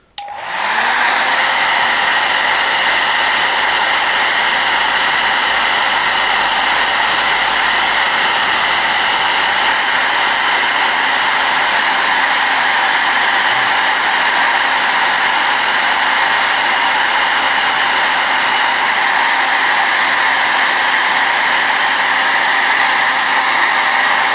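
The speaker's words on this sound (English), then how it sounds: "So let me just plug in my hairdryer" A hair dryer blasts continuously and loudly right up close while drying the paint on a Genestealer miniature, a steady roaring whoosh of air that starts abruptly and holds unchanged throughout, with no talk.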